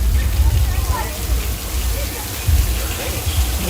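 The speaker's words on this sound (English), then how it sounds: "Oh, now we got some rain." Steady rain falling during an outdoor tram tour at Universal Studios Hollywood, a constant close hiss of drops with low rumbling underneath, while people talk over it.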